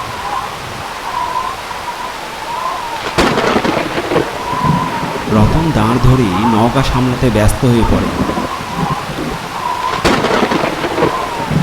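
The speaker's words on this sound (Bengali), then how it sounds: "সাথে বজ্রপাত আর বৃষ্টির তাণ্ডব।" Heavy rain falls during a storm over a river, with loud thunder cracks that boom and rumble at intervals through a constant downpour. A voice narrates over the storm.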